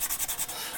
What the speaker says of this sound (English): I'm sanding at this moment with,